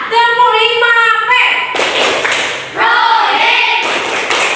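Children in a classroom perform a rhythmic patterned clap, chanting together in bursts and then breaking into loud, close rounds of clapping in time.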